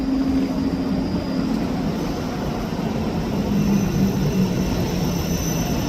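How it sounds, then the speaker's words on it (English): A Scotrail train arriving at Edinburgh Haymarket station, a loud continuous engine drone and rumble with a steady low hum, sustained and close, with no voices. "Arriving in now is the 11:12 Scotrail service from Edinburgh Waverley to Helmsborough Central"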